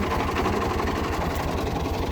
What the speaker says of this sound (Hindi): ट्रैक्टर आगे जा रहा है